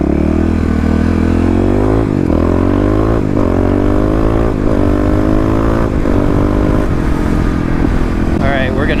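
Fuel-injected Kawasaki KLX351 dirt bike ridden on the road, a loud close engine note rising through several throttle openings and shifts with wind buffeting over it.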